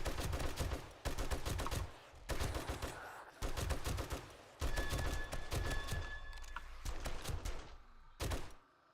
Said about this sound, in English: See the turret out there doing its job?